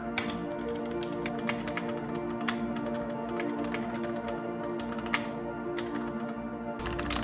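Rapid, steady clacking from a mechanical keyboard goes on continuously at close range, with dense, irregular key strikes and no voices.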